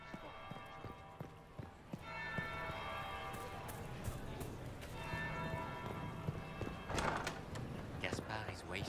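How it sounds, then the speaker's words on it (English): In the video game Dragon Age Inquisition, a bell rings out in distinct strikes that stand apart from a busy backdrop of footsteps, hoof-like clatter and murmuring, with a louder strike near the end. "That would be the second bell."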